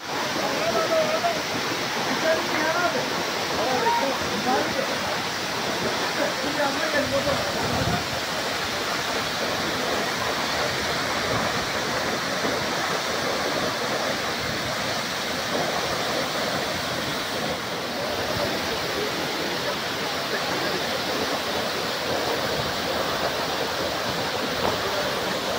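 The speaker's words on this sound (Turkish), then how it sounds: "Çok dehşet bir görüntüsü var bu şelalenin." Rushing water of the Şarlayan waterfall pours steadily and loudly as a dense, continuous roar that fills the whole stretch without pause.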